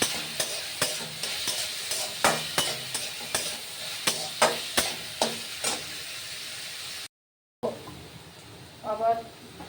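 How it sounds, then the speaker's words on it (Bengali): Potatoes and onions fry in a pan with turmeric, under a constant sizzle and a regular run of sharp spatula scrapes and taps, followed by a short gap and some softer clatter. "আবার আলু পেঁয়াজ ভাজা হয়ে এসছে।"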